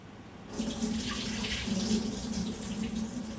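Tap water runs steadily into a kitchen sink while rice is being washed for a fish curry, starting after a short pause and continuing as a close, even hiss and splash.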